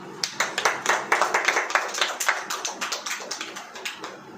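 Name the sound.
people clapping hands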